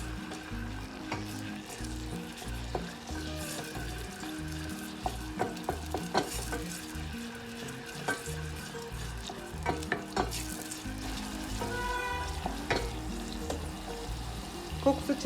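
Garlic frying and being stirred in a pan, a constant close sizzle broken by repeated scraping and knocking strokes of the utensil over about fifteen seconds.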